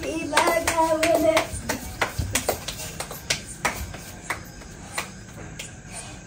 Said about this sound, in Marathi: टाळ्या तर नीट वाजव की तू.